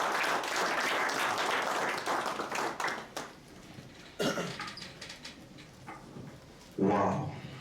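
Audience applause at a football club kit launch, a fairly quiet wash of clapping that dies down midway, with a few short bursts of voices and noise afterward.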